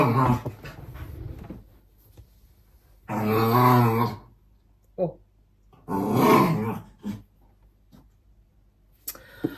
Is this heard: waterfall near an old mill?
no